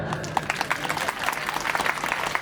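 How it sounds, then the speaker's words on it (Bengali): Applause for the chairman at a school annual sports award ceremony, a sustained crowd of many hands clapping at a moderate distance with a faint voice underneath. "আমি ওনার জন্য একটা হাততালি চাই।"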